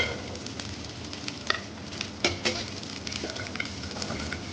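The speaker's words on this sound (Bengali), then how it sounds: "এখন একটু শুকনা কড়াইয়ের মধ্যে টেলে নিব" Cut pieces of loitta shutki, dried Bombay duck, crackling and pattering in a dry wok over low heat, with a steady faint sizzle and a few sharper ticks and scrapes as it is stirred.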